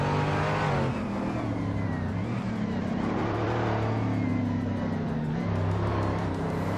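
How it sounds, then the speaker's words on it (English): A Lamborghini Reventon V12 supercar in a racing video game, its engine droning loud and steady with a sustained high revving whine and no pauses. "DCKB Zerik is driving the Lamborghini Reventon, a supercar known for its aggressive looks and V12 power"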